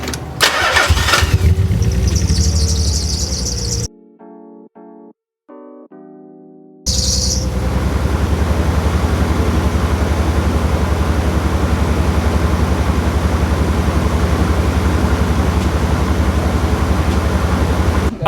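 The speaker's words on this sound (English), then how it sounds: "Start her up." A 30-year-old JDM Nissan 300ZX with a misfire cranks and fires, then settles into a loud, steady idle that runs unbroken for over ten seconds, with a brief quiet gap near the start and faint birdsong in the background.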